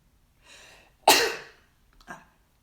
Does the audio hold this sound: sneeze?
yes